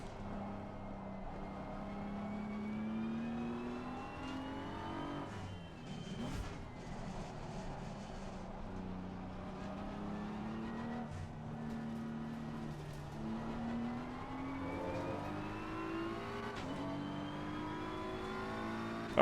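Race car engines in Assetto Corsa Competizione, a BMW M4 GT3 among them, whine and climb through gear changes with repeated rising pitch sweeps, while other cars drone nearby at moderate level.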